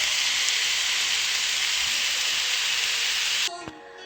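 Onions frying until golden in a pan, giving a dense, even sizzle up close that cuts off abruptly near the end, followed by a quiet clink.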